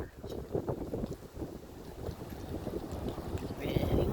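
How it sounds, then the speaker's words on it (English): Strong outdoor wind buffets the microphone with a loud continuous rumbling roar that gusts throughout. "It's really windy."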